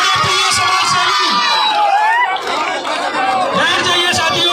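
A large outdoor crowd at a village political rally cheers and claps continuously, a loud, dense wash of applause and shouting voices, with children's shouts mixed in.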